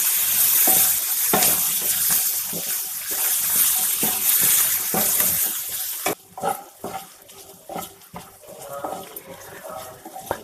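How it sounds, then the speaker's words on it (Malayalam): Bitter gourd and onions sauté in a pan on a small stove over medium flame, a loud continuous hiss for several seconds, then softening into intermittent sizzles and scraping stirs. "കയ്പ്പയ്ക്കയും ഉള്ളിയും നന്നായിട്ട് വഴന്നിട്ടുണ്ട്."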